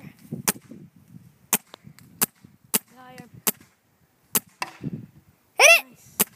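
A paintball gun low on gas pops off a series of sharp, separate shots spaced irregularly, with rustling and faint voices between them and a brief whistling squeal near the end.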